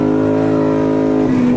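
A manual-transmission Chevrolet Silverado pickup revs hard in second gear with its tires spinning, a loud, steady engine drone that shifts and roughens near the end.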